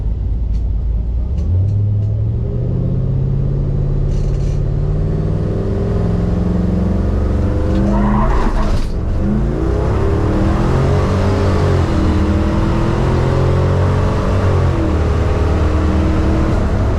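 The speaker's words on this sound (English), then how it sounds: "the plan according to Ben Dobinson, we're just going to return to normal and just run through as much of the racing as we can" Race cars at a King of the Street (KOTS) 2024 motorsport event roar past in a continuous loud engine drone, with rising revs and a brief burst of acceleration midway, no talk over it.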